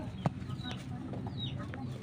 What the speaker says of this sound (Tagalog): Kani manok ibaligya.